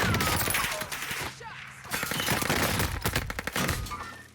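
Dense gunfire in Warzone, rapid volleys of close, loud shots with a brief lull in the middle before more bursts and single cracks, with faint game noise underneath.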